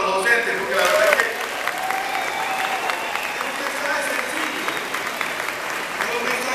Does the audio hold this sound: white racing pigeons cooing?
no